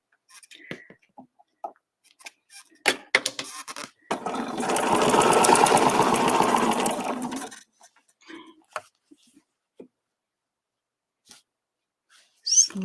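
A sewing machine runs in a single steady burst of about three and a half seconds, stitching along a marked line nearby, with clicks and brief speech in the quiet stretches around it.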